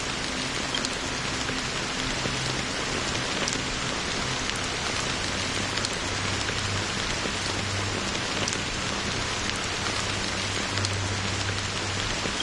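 Steady rain pours without a break over Penacony in the game Honkai Star Rail, a dense, even patter on surfaces with faint low rumbles underneath and no voices.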